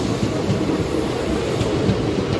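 The Palnadu Superfast Express rumbles along the rails, a loud, steady roar with rhythmic clatter of wheels and faint high squeals, heard from on board.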